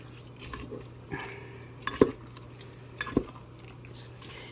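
Spaghetti squash Hawaiian-style vegan dish, cold and clumped, stirred in a pan with a utensil: soft scraping and a few sharp clinks of metal against the pan over a low steady hum.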